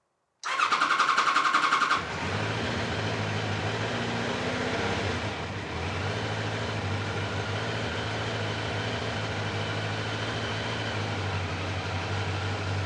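A 1000cc Kawasaki Concours motorcycle, on choke after a revival, cranks briefly with a loud starter whir, then fires and settles into a steady, even idle that carries on close and loud.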